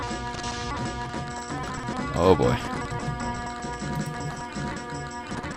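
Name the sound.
glitched video game music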